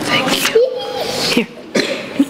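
A person sneezes once indoors during a home gathering, close and fairly loud, with people talking around it.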